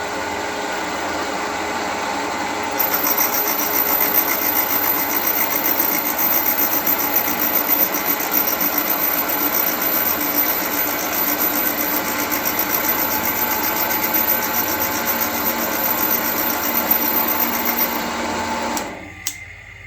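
An old grinding machine runs steadily while a grinding stone is dressed during cylinder head rebuilding, a loud continuous mechanical whir with a high whine joining partway through, then spinning down near the end.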